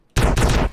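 Enemy gunfire in Grand Theft Auto: San Andreas, a loud dense burst of shots starting abruptly and running for about half a second, close and harsh.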